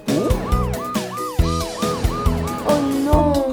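A cartoon ambulance siren wails in a repeating two-tone pattern, loud and close, over bright musical backing with thumping beats.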